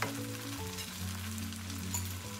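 Shrimp fried rice being stir-fried with chopped green onion tops in a hot pan, a steady sizzle with some stirring and scraping running through the short stretch, with no one talking.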